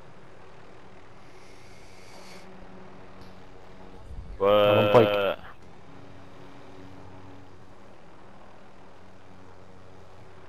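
An airplane engine in Call of Duty: Modern Warfare rises in a loud, brief roar of about a second midway through, over steady game ambience, with someone talking quietly around it.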